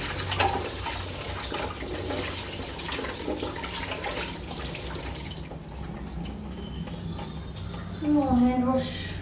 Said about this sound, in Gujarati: Hand wash.